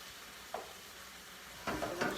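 Chicken for a cilantro lime bowl cooks in a pan over medium-high heat with a quiet, steady sizzle and two brief louder bursts of stirring or shifting in the pan.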